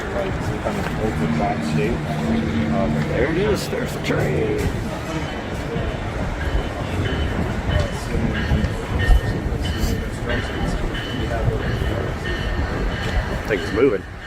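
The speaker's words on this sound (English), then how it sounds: "There it is. There's the train." A train rolls in with a steady rumble and rail clatter lasting throughout, accompanied by outdoor crowd noise while people talk nearby.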